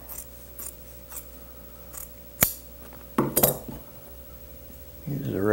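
Scissors snip through excess upholstery fabric on an Eastlake chair, one sharp isolated cut followed by a quick cluster of closer snips against a quiet workshop background.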